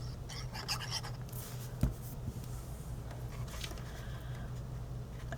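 Paper is folded and pressed flat by hand to make a gift card box. Soft close rubbing and brushing sounds come in short bursts with one small tap, all faint and heard over a low background hum.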